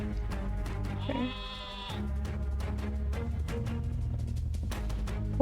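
Sheep bleating in a visual novel game, a single wavering bleat rising clearly over a dense bed of game music, fairly close and loud.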